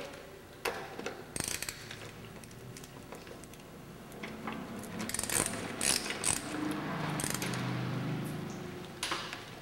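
A nut spun down a bolt shaft against machined steel spacers, quiet irregular ratcheting clicks and metallic taps with a soft whirring spin, close up.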